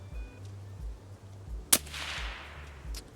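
A single sharp sniper rifle crack in a video game, loud and abrupt with a long rolling echo tail fading away, set against a low rhythmic background hum.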